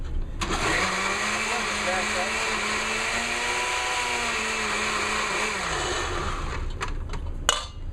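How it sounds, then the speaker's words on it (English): Blender running with no lid while mixing mango barbecue sauce, a loud steady motor whir with rising and falling pitch that winds down near the end, followed by a few clanks. "All right, we've got the barbecue sauce in the blender."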